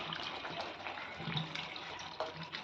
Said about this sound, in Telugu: గ్రేవీ థిక్గా ఉంది కాబట్టి కొన్ని వాటర్ పోసుకున్నాము.